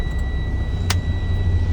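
A truck's engine running to rebuild air brake pressure during a CDL Class A pre-trip check, heard as a close, steady low rumble with a brief hiss partway through.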